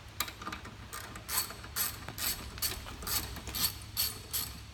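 A ratchet wrench with a 9/16 socket clicks in quick repeated bursts, about eight strokes, while cylinder bolts are loosened on a Bobcat T300 quick attach.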